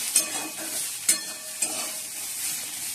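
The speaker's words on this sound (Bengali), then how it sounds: "আলু ভাজা" Potatoes fry in a pan with a soft continuous sizzle, punctuated by three sharp spatula scrapes and stirs, close and without talk.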